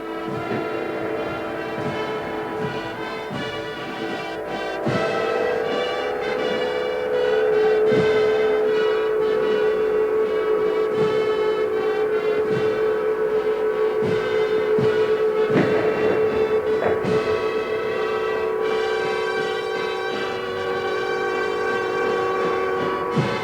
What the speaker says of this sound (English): And the sirens sounded over Moscow,